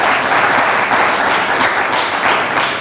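Audience applause for a named guest at a Hindi-language talk or event, a dense steady clapping that stays loud and continuous from start to finish without voices.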